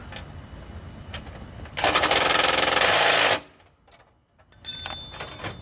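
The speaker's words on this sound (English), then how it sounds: "I know I tightened it already with the impact. I'm gonna tighten it again to make sure." A loud, continuous mechanical rattle lasts about a second and a half, then cuts off, as an impact wrench tightens the new drive pulley on a Craftsman T-210 riding lawn mower, followed by near silence and light clatter.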